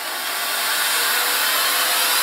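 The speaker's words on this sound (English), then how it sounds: "simply turn on your vacuum, and now you can get under" A Miele C3 canister vacuum fitted with a flexible crevice tool runs with a loud, steady whooshing roar that holds at one level the whole time, with no voices.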